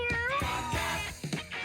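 Cartoonish cat meows from the video game Mewgenics, several rising and falling mews in quick succession over a steady game soundtrack, moderately loud with no talking.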